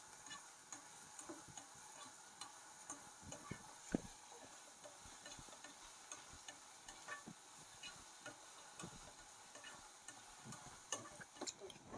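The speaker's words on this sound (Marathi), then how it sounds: "व्यवस्थित हलवून घ्या." Spoon stirring chopped tomatoes in a pan for paneer bhurji, a steady soft scraping with light sizzling and irregular clicks of the utensil against the pan, faint and continuous with no talking.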